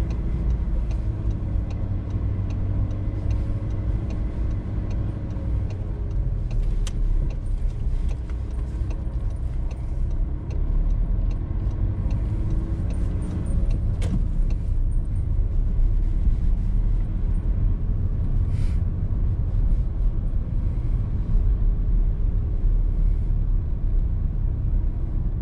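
A car drives on a road during a German driving test with gear-shifting trouble, a steady engine and road rumble running continuously with faint ticking and small rattles, no voices.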